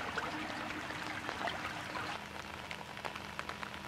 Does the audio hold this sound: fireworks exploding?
no